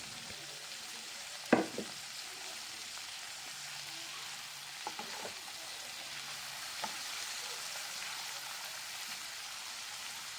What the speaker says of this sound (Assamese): নাৰিকল লচিখিনি দিয়াৰ পাছত এতিয়া ভালদৰে অলপমান ভাজি ল'ম